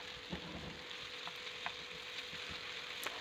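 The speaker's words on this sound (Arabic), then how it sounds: "هنا نحكم ملعقه كبيره تاع طماطم كونسونطري نحطها، قاليها شويه معاه" A spoonful of tomato concentrate fries in a pan, giving a faint, steady sizzle with small scattered crackles and pops and no one talking.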